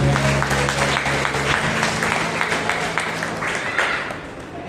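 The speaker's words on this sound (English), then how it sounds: "Everybody, please clap for Auntie." A congregation at a New Year prayer meeting claps steadily for several seconds, dense and fairly loud, beginning under a short stretch of background music and then fading slightly.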